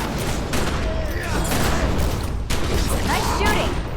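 Rapid gunfire bursts from The Secret World video game, dense and continuous throughout with sharp cracks layered over a busy game soundscape, and a voice talking over the shooting.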